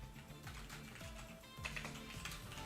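Soft, steady clatter of keys being typed on a computer keyboard, quiet and continuous with no voices.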